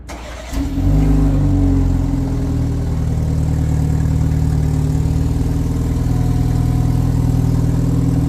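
A 2023 BMW 230i four-cylinder engine turns over after a remote start, catching with a brief rising rev before settling into a steady, smooth idle heard up close and alone.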